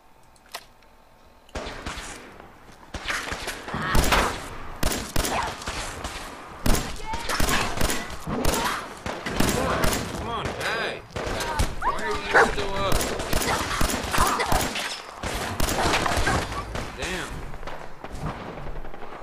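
A 10mm pistol fires repeatedly in Fallout 4 combat, loud sharp shots in quick irregular bursts amid thuds and other gunfire, with someone talking over the action.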